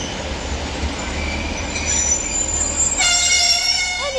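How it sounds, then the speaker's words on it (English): A Northern Class 156 diesel unit, 156 419 on a Rochdale service, rumbles into Bolton station with rising wheel squeal and rail noise, and bright whining tones ring out strongly near the end. "as this Northern Class 156 arrives in now into"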